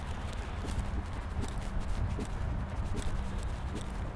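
A horse being trial-ridden walks along with loose reins, its hooves clip-clopping in a steady even rhythm against a constant low background rumble.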